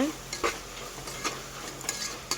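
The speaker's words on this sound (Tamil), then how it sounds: "தக்காளி, பச்சை மிளகா எல்லாத்தையும் போட்டு இஞ்சி பூண்டு பேஸ்ட்டெல்லாம் போட்டு வதக்கிக்கிட்டு இருக்காங்க" Tomatoes, green chillies and ginger-garlic paste sautéing in a pan at home, with a soft steady sizzle broken by a few sharp stirring scrapes and clinks of a utensil against the pan.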